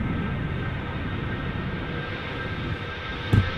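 Airplanes depart from a runway at Amsterdam Schiphol Airport, a steady, distant jet roar that holds throughout, with a brief knock close by near the end.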